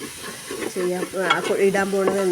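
Masala is stirred in a pan for Palakkadan Rawther biryani, with scraping spoon strokes over a light sizzle, close and moderately loud in short irregular bursts.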